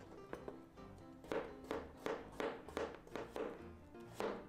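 A knife slices cucumber on a cutting board for a Korean-style cucumber and bok choy salad, giving about a dozen crisp, close taps in a steady rhythm with no talking.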